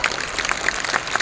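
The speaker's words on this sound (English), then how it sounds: "Can we give RIWAY a round of applause for that?" An audience at a business system course in Bangkok claps for the company, a brief, busy spread of applause with scattered sharper claps and faint crowd noise mixed in.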